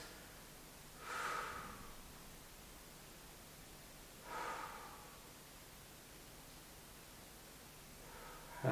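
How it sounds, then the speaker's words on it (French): Two slow, deep breaths drawn and released during a back-extension exercise with abdominals and glutes held tight, soft and airy over a quiet hiss, with a third breath starting at the end. "quelques respirations."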